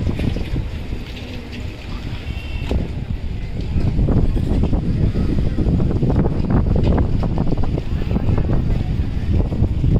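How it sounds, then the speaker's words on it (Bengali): Strong wind buffets the microphone continuously beside a wide open wetland near a bridge at Tongi, a loud, rumbling low roar that swells and stays heavy throughout with no clear speech. "জায়গাটিতে প্রচন্ড বাতাস"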